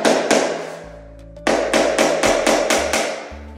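Rapid hammer strikes on metal, a burst of blows, a pause with a low hum, then a steady run of about eight sharp, ringing hits close by.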